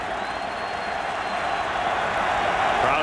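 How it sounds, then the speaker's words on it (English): A loud stadium crowd roars steadily at an NFL football game between the Eagles and Saints in December 2007, a dense continuous swell of voices that builds slightly louder toward the end. "Crowd gets loud again."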